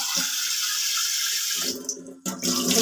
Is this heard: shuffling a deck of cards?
no